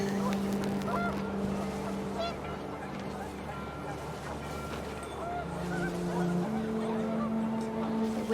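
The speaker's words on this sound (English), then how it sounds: "The wind picked up and panicked geese appeared and quickly went." Panicked geese honk in the What Remains of Edith Finch video game, a flurry of overlapping honks over a low, steady rumble of wind, fairly faint and spread across the scene.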